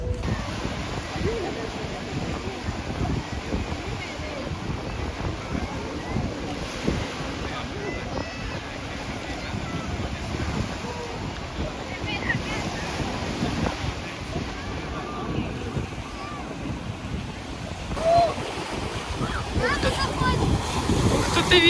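Strong wind buffets the microphone in a constant roar, with surf-like rushing and gusts rising toward the end.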